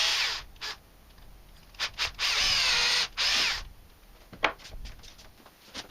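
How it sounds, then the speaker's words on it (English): A drill bores a hole in wood through a guide block, coming in several short bursts and one longer whirring run, fairly quiet with pauses between. "drilled the hole for the stem using a guide block"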